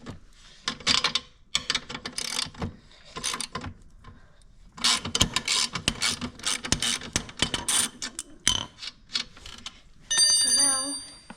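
A wrench ratchets on the wheel bolts of an electric bike, giving repeated clicking and metallic turning in bursts. A voice talks at times, and a brief whine of a tone closes it.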